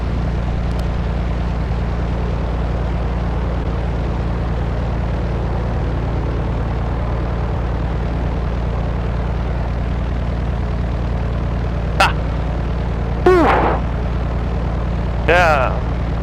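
A small propeller airplane idles and taxis on a tight backcountry dirt runway with a steady close engine drone. Brief radio voices cut in near the end.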